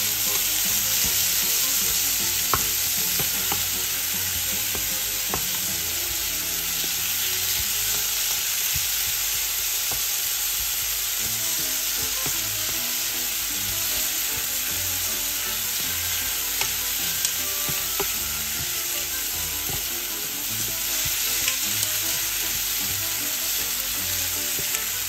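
Chopped tomatoes sizzle and fry steadily in a hot pan for a Filipino sautéed bitter melon with egg dish, with occasional stirring clinks over a continuous close hiss.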